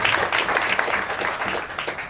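A crowd at a business motivation meeting in India bursts into applause honoring company leaders, a full, continuous roar of many hands clapping at close range with no pause.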